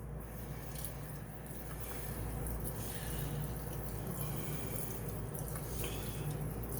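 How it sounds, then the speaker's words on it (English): Faint, steady trickle and splash of water rinsing wet green Vermont slate slurry off a blade, a soft continuous wash with small squishing drips and no talk. "So we'll rinse it off."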